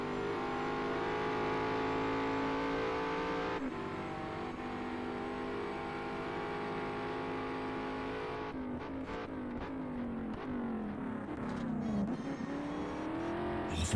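A Mosler MT900R race car in GT Sport revs hard and steadily throughout, its engine note climbing and shifting with throttle blips near the end.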